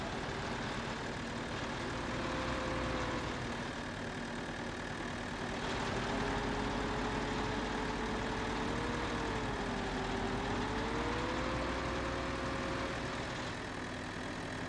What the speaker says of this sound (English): See, this little tractor's not that powerful, even with the light trailer.